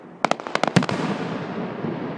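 Class A consumer fireworks burst in a quick cluster of sharp cracks and pops at moderate distance, followed by a lingering crackling rumble.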